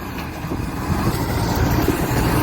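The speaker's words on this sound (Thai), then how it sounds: "เร่งเครื่องเบาๆเองไหม" A modified Thai farm tractor rigged as a straw baler, its undercarriage built like a harvester's, revs lightly with a steady, fairly loud low engine rumble that holds evenly for a couple of seconds, no voices over it.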